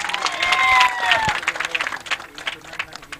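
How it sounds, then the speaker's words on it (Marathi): Applause at a cricket premier league prize ceremony, a brief burst of crowd clapping and cheering that tapers into scattered claps, with whistle-like tones early on and voices in the background. "जोरदार टाळ्या होत्या जरा."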